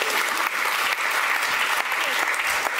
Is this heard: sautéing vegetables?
no